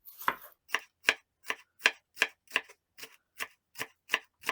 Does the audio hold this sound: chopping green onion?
yes